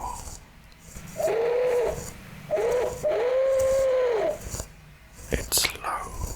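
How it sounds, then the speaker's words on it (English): Soft, low hoots like a distant owl outside a cave, three drawn-out calls over about three seconds, set among quiet whispering and faint rustles. "From outside the cave, Ted hears the distant sound of an owl."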